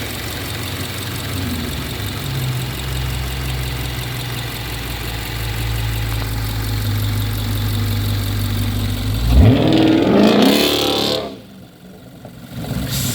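A 2024 Subaru Crosstrek engine idling steadily at close range with a low even hum, then revved sharply to a rising roar before dropping back toward idle.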